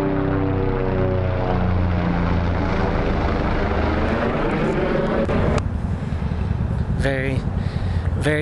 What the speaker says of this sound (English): Here comes another medevac helicopter.